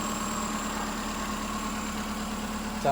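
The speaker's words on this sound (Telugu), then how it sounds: "చాలా స్మూత్ ఉంది ఇంజన్," Smooth, quiet idle of a 2014 Maruti Eeco eight-seater petrol engine, a steady low hum with a faint constant whine above it, ending in a brief bump.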